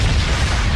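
A cartoon energy explosion from an anime fight scene bursts as a loud, dense, rumbling boom lasting under a second, filling the whole sound alone with no voices.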